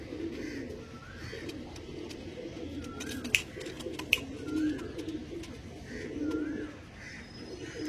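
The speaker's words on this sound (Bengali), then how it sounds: "এগুলো গুন্টুরের পায়রা, তাও বলে দিচ্ছি।" Guntur pigeons coo softly in repeated low, throaty phrases, fairly close, with a couple of sharp clicks and faint background noise between the calls.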